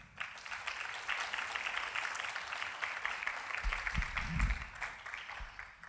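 Congregation applause at a Spanish-language church service: a steady, dense wash of clapping that fills the whole stretch at a moderate level, with a few low thumps near the end.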